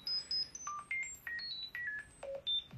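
Telephone tones ring out in a quick series of short electronic beeps at varying pitches, with brief gaps between them, clear and alone with no talking.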